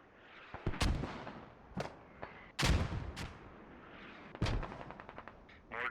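Artillery and gunfire in the Squad video game, several sharp loud blasts spaced irregularly, some near and some more distant, with echoing tails between shots.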